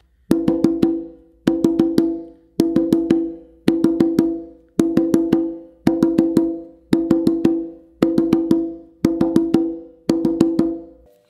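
Hand drum struck in repeated groups of quick hits, alternating hands in an even pattern, each group followed by a brief pause, loud and close with no talking.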